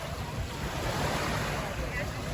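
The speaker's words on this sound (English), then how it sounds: "And this is Playa de Muro just here." Surf breaking on the beach at Playa de Muro, Alcudia, Mallorca, a steady broad wash of waves with wind noise across the microphone, loud and continuous.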